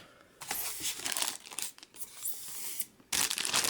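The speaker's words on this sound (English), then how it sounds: "So you can see here, comes in a plastic bag." Close crinkling and rustling of the plastic bag around an Overwatch Collector's Edition figure as it is handled, in irregular bursts with short pauses and a louder crackle at the end.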